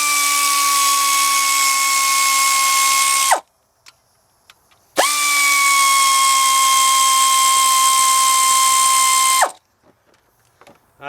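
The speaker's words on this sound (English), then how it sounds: "Tapping and drilling to me is no fun." A high-pitched power drill whines steadily in two long bursts drilling out bolts on a Toyota Tahoe water pump job, each stopping abruptly, with brief quiet clicks between them.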